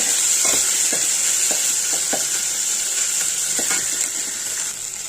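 Tomatoes frying and sizzling in a pan while cooking prawn curry, a steady bright hiss throughout with soft stirring clicks and scrapes scattered across it, close and fairly loud, no talking.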